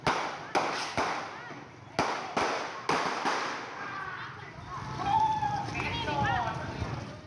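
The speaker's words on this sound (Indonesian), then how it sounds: "Terdengar bunyi tembakan berkali-kali" Several sharp gunshots ring out in an irregular series during a police operation in Sumenep, Indonesia, followed by shouting voices and commotion in the background.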